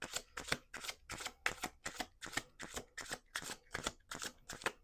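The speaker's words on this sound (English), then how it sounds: "Let's do 2 more shuffles." A deck of reading cards is shuffled repeatedly, giving about a dozen quick riffling bursts in a steady rhythm, close and fairly soft with no talk.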